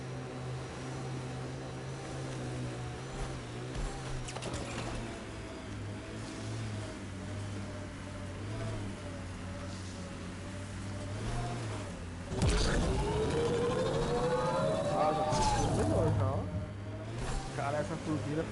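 Vehicle turbine engine in Mass Effect: Andromeda, a steady low drone with a rising whine that swells loud partway through, with people talking over it.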